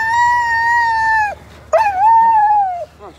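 A sled dog howls at the start line of the Fur Rondy sled dog race in Alaska, giving two long, loud, close mournful howls separated by a brief pause, followed by a short yip, with no one talking over it.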